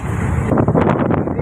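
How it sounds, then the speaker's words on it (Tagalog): Strong wind buffets the microphone aboard a boat, a loud, constant roaring rush with gusty surges partway through, and no talking. "Malakas ang hangin."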